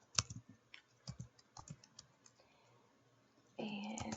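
Typing CSS code on a computer keyboard, a series of sparse, soft key clicks in an uneven rhythm, fairly faint, before a louder steady sound takes over at the end.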